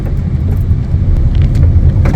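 Steady low road rumble inside a Maruti Fronx cruising at low speed in a high gear over a newly built road, with small knocks and rattles carrying into the cabin; no talking.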